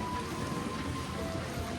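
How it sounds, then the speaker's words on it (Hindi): Light rain falls during a family pilgrimage trip to Vaishno Devi, a steady broadband hiss of drops pattering nearby. "थोड़ी बारिश पड़ रही है"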